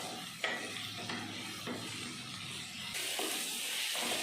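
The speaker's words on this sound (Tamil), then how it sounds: "வெங்காயத்தை நல்லா வதக்கிடலாம்." Chopped onions with a pinch of salt sauté in a pan, steady sizzle and frying hiss running throughout, with a few spoon stirs and scrapes and a brighter burst near the end.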